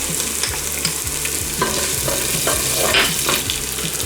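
Garlic fries in hot oil with cumin seeds and ginger in a pan, sizzling loudly and continuously close up while a utensil scrapes and stirs through it.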